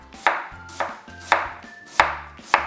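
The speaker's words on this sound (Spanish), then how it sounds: "Y ahora viene lo más difícil, que es cortarlo así, sujetando bien con la mano la cebolla" A knife cutting an onion on a board, five separate chops at an even, unhurried pace, each a crisp close slice ending in a firm knock, with no talk.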